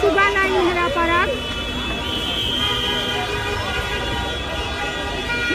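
Police car sirens wail and sweep up and down as the vehicles approach along a city avenue near the Amiryan street section, loud at first and then continuing under constant speech from a reporter.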